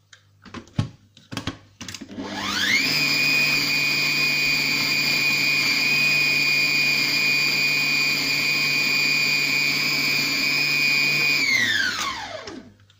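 A Compact Cook Pro food processor whirs up to speed and holds a steady high-pitched motor whine for about nine seconds while blending tuna rillettes with cheese, then winds down, after a few handling clicks at the start.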